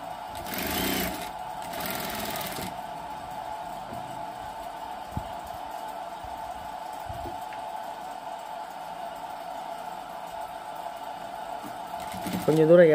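A sewing machine stitches a full 30-inch umbrella canopy, bursts of rapid needle chatter at the start, then a steady motor hum with a faint rattle underneath and another burst at the end.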